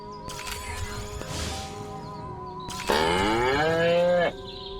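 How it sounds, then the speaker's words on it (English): Cows moo loudly in Destroy All Humans, a video game set on a farm, with one drawn-out low moo followed by a longer, stronger moo that bends downward, both close and clear over a quiet game hum. "Again with the moo?"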